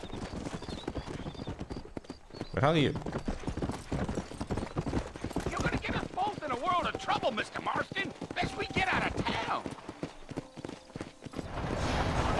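A horse trots with rhythmic clip-clopping hooves in Red Dead Redemption on PC, the hoofbeats running under game dialogue and a streamer's talk, with a neigh-like call partway through.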